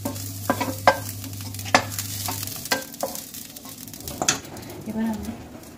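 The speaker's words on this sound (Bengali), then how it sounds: "ডাঁটাটাকে আমি একটু লাল লাল করে ভেজে নেব।" Vegetable stems frying in a pan until reddish, for a Bengali dudh shukto, sizzle steadily while a utensil scrapes and stirs in sharp, irregular strokes close by, with a brief low hum early on.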